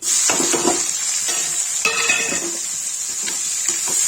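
Onions dropped into hot oil in a pan for Kashmiri-style potato and brinjal curry, a bright steady sizzle with a few scraping and clattering stirs, close and loud, no talking.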